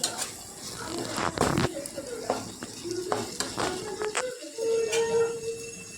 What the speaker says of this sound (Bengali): দিয়ে ভালো করে কষিয়ে নিতে হবে যতক্ষণ না তেল বেরোচ্ছে মশলা থেকে।